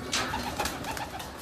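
A sick racing pigeon being treated in a loft gives a short, close, soft coo in a couple of low pulses, heard alone.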